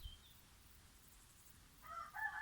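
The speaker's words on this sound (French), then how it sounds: "Vous entendez les coqs qui chantent." Roosters crowing outdoors at a French rural property, a distant call followed by a louder, nearer crow over quiet background hiss.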